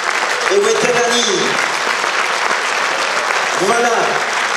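Audience applause for a ballet at a Christmas show, continuous loud clapping with a voice speaking over it at the start and again near the end.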